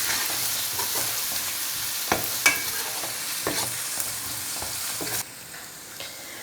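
Ginger garlic paste being stirred as it fries in a pan for a dhaba-style aloo gobhi, a steady close sizzle broken by several sharp scrapes and clanks of the spoon, quieting near the end.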